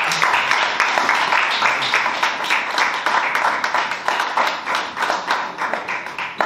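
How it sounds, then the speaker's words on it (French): Congregation at a Sunday church service claps to welcome a visitor, a steady run of close, fairly loud handclaps with rhythmic pulses, continuing for several seconds. "Est-ce que vous pouvez l'accueillir comme vous faites habituellement par vos acclamations?"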